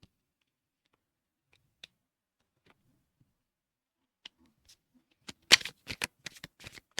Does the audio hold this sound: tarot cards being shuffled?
yes